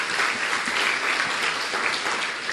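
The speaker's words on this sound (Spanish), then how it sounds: "Le damos otro aplauso al Espíritu Santo de Dios de bienvenida." Church congregation clapping together in steady, dense applause, continuous and fairly even across a short stretch, heard from within the room.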